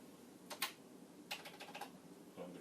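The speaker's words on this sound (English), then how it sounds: "And the keyboard, at first glance, seems to work." Keys tapped on a Commodore 64 computer keyboard, two or three short bursts of quick clicky presses close by, with quiet pauses between them.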